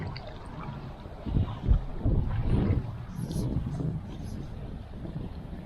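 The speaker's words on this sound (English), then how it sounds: "it's pretty windy" Wind buffets the microphone in low, rumbling gusts beside a trout stream, with a louder surge partway through and a steady outdoor rush underneath.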